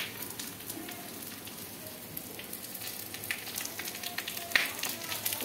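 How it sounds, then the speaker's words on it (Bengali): Onion frying in oil, a soft steady sizzle with faint crackles and a few scraping stirs, continuous and fairly quiet throughout. "পেঁয়াজটা ভাজা হচ্ছে"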